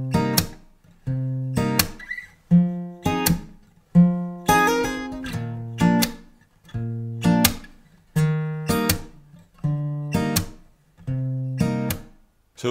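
Acoustic guitar strumming chords of a song without a capo, steady strummed and picked chords ringing close and clear, alone with no voice.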